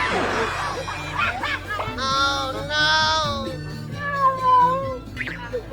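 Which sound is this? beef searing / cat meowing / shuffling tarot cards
cat meowing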